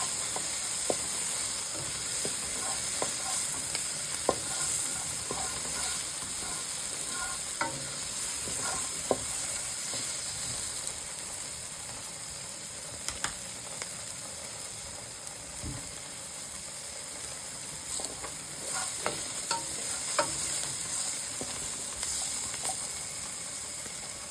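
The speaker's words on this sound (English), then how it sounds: "the garlic and the onion, the red onion, has already started to caramelize a little bit" Garlic and red onion sautéing in a pan keep up a constant hiss and crackle, broken by occasional light scrapes and taps of a utensil over nearly half a minute.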